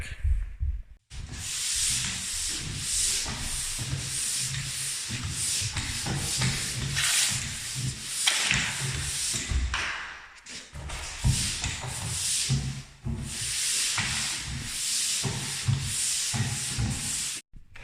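Long sweeping strokes of a sanding pole rubbing across drywall joints, a rough hissing scrape repeating in steady passes with brief pauses between.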